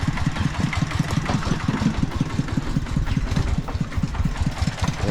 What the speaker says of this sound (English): Yeah, so this is like a motor.